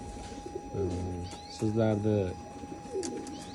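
Pigeons coo in a low, throaty way at a pigeon-keeping loft, with two longer coos in the middle of the clip and a shorter one near the end, heard against background noise and a speaking voice.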